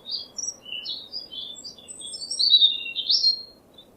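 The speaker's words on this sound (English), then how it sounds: "happily chirping a little song" A small bird perched indoors chirps a bright, busy song of quick high tweets and trills, fairly close, over a soft steady hum of background noise and with no talking.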